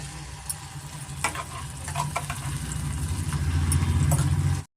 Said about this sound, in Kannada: ಇದಾಗಿದೆ ಸ್ವಲ್ಪ ಫ್ರೈ ಆದರೆ ನಮಗೆ ಸಾಕು ಇವಾಗ ನಾವು ರುಬ್ಬಿಟ್ಕೊಂಡಿದ್ದೀರಲ್ಲ ಅದನ್ನು ಸೇರಿಸ್ಕೊಳ್ಳೋಣ